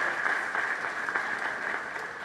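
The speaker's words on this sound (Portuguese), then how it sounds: "uma salva de palmas para o nosso diretor hoje" Applause at a business plenary session rolls on steadily for a couple of seconds, an even wash of many hands clapping at moderate level with no speech over it.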